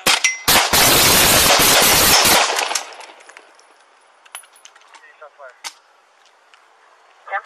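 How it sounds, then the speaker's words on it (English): During a George Floyd protest in Albuquerque, a burst of loud, rapid gunshots rings out close by, then fades to a quiet scene with scattered clicks and faint rattles. "Shots fired."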